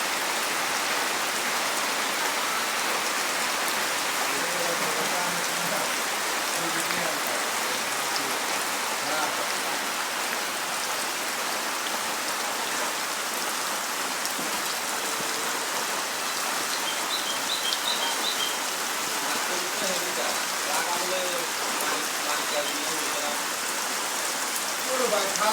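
Steady rain falls on a pond, a dense continuous hiss throughout with faint bird calls in the background and no talk.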